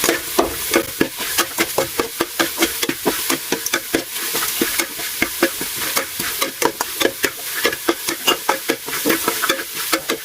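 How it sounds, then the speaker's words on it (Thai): Lemongrass and other ingredients are dry-roasted in a pan, with rapid, continuous scraping and stirring strokes in a quick rhythm over a light crackling sizzle, close and fairly loud, with no talking. "ใส่ตะไคร้ คั่วให้หอมเลยค่ะ"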